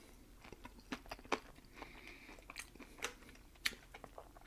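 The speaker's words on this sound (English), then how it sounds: "Those potatoes are nice and crunchy." Close, crisp crunches of someone biting and chewing crunchy fried potatoes from Chester's Chicken, irregular bites and chews in a quiet room.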